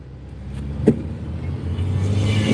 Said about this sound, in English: it seems to be driving nicely. It's braking nicely.